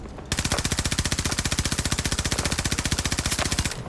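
Sustained automatic fire from a gun in Battlefield 2042: a rapid, evenly spaced stream of loud close shots that runs unbroken for over three seconds, with no voices over it.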